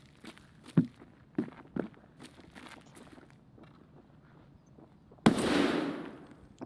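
Gunfire in a shooter video game: a few sharp separate shots early on, then one louder burst near the end that trails off into a wash of noise.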